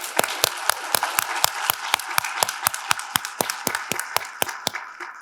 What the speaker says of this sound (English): Y'all have got to give them a better round of applause than that